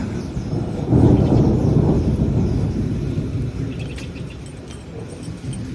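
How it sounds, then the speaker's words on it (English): A deep roll of thunder swells early and slowly fades into a steady wash of rain, with faint bird chirps near the end, near La Catedral, Colombia. "I hear thunder, but we're gonna enjoy it as long as we can"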